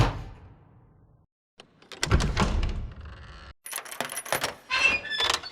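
Historical door sound effects from a sound library: a low thud and a short pause, then a heavy door slides and rumbles along, followed by clacking latches and rattling hardware.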